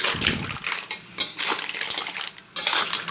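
Clams stir-fried in a hot pan with roasted chili paste, metal spatula scraping and clattering against the pan in a busy, continuous run of clanks over crackling sizzle.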